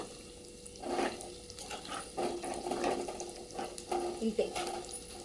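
Prawns with spices get stirred in a pan, producing scraping, wet churning strokes in irregular bursts with a light sizzle underneath, close and moderately loud.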